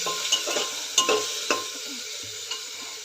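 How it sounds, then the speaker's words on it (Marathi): Vegetables for a carrot soup sautéed in a pan, a soft sizzle punctuated by a few sharp scraping stirs and light clinks of a spatula, close and moderately quiet, without talk. "आता हे सर्व 1-2 मिनटं परतून घेऊया"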